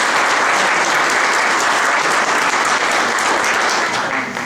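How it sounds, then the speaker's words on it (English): Sustained, dense applause from a large audience at a community arts center's 20-year anniversary celebration, steady and loud throughout without a break. "So if we could give them a round of applause for all the work"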